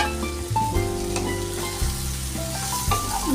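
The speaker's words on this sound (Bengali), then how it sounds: "তো দেখো সবজিগুলো প্রায় ভাজা ভাজা হয়ে এসেছে।" Chopped vegetables and rinsed, soaked flattened rice fry in a pan for a poha-style breakfast, sizzling steadily and close up with stirring scrapes, no voices.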